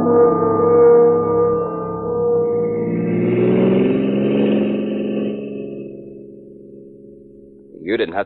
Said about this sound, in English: You didn't have to drive me to the airport, Mr. Sharbert.